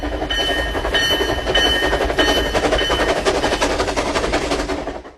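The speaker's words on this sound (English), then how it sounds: "T is for train." A train rolls past loud and close with a steady rhythmic clickety-clack of wheels over rail joints, continuous for the whole stretch before easing off at the end; no voices.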